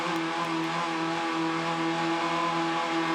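Ssangyong Rhino race cars under heavy throttle on a circuit: a steady, sustained engine drone holding high revs, fairly close and constant throughout without a break.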